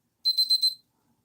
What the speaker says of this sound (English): almost, and that's the alarm